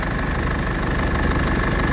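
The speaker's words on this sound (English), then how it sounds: "that is transit running" A Ford Transit van engine runs at idle, a steady close mechanical drone with a faint knocking pulse and vibration, continuous and alone.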